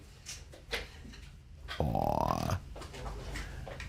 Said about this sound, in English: so everybody can see how beautiful this dog is